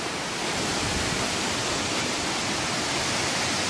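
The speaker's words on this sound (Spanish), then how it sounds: "Acojonante la cascada que viene cayendo por aquí." A Himalayan waterfall cascading down the mountainside near Taktsang monastery at around 3,000 metres, a steady, dense, unbroken roar of falling water with no talking.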